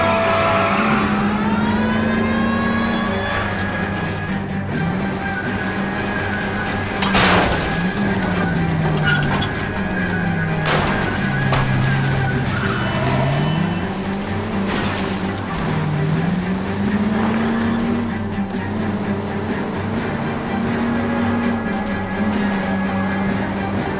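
A car engine revs and whines through a chase in L.A. Noire, pitch rising and falling with gear changes, tyres skidding, and crash thumps around the middle.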